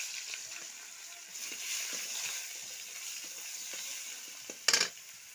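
Tomatoes fry in fish oil with nigella seeds for a fish curry, giving a steady, soft sizzle throughout, broken near the end by one brief, louder crackling burst as the pan is stirred.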